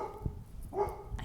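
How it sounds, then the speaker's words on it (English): A neighbor's dog barks a few times, faint and distant, heard from a garden through quiet background noise, short and spaced apart. "I can hear my neighbor's dog barking."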